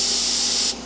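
Airbrush spraying white paint onto a twitch bait fishing lure, a steady close hiss that runs evenly and then cuts off abruptly near the end.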